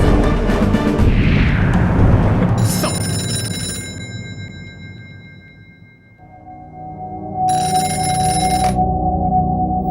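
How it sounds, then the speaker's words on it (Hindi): A telephone rings with a bright electronic bell, first amid loud busy noise, then again more clearly as a steady ringing tone after a brief lull. "कंट्रोल रूम से फोन है उसी पैसेंजर का"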